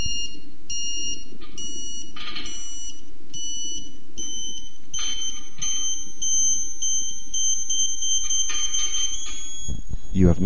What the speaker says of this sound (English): turn the azimuth fine adjust screw again in the opposite direction until you hear the continuous tone